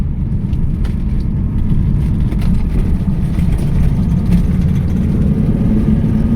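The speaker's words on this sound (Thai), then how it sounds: "เครื่อง 2J อัตราเร่งดีนะครับ" A 2JZ-swapped Mercedes-Benz W123 280S with automatic gearbox accelerates, its engine a steady, loud low drone with broadband road and wind noise throughout, heard from inside the car.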